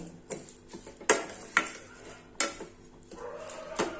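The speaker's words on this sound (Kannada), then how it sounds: "ಚೆನ್ನಾಗಿ ಫ್ರೈ ಮಾಡ್ತಾ ಇದ್ದೀನಿ" Carrot modak mixture stirred and fried in a pan, heard as close spoon scrapes and knocks against the pan at an irregular pace, with soft frying noise underneath and no talking.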